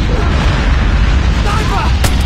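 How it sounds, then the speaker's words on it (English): A Call of Duty nuke explosion is a heavy, sustained roar of deep rumbling that stays loud and steady throughout, with faint sharper crackles near the end. "friendly nuke has been launched"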